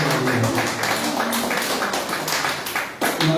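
A church congregation claps hands together in a Sunday service, a steady run of dense, loud clapping filling the room with some voices underneath.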